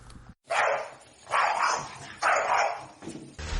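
A dog barks in a spoiler sound effect, three loud, close, evenly spaced barks with short pauses between them.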